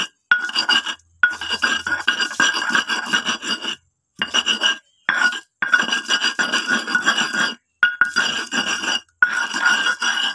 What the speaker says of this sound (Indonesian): kita aduk, kita tumbuk, kita tumbuk sampai benar-benar halus